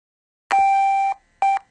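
BVS25 TC:Bus control unit emitting diagnostic beeps: one long electronic tone followed by a short one, clean and close with silence around them.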